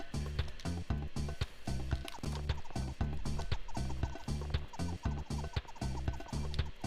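A banana bird in the SNES game Donkey Kong Country 3 gives a rhythmic, repeating clucking chirp, loud and upfront, looping steadily over several seconds.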